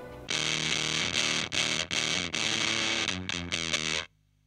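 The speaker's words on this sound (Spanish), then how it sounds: "Suena mucho más como cualquier sonido de fuzz." Electric guitar through an Earthquaker Devices Erupter fuzz pedal, thick saturated chords struck in several bursts with short gaps, loud and alone, ending with a sudden cut to quiet hum.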